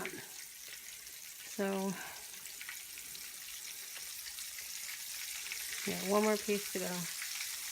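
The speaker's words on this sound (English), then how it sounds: "Okay, so I'm going to let this fry up." Chicken wings fry in oil in a pan with a constant close crackling sizzle, while a person talks briefly over it twice.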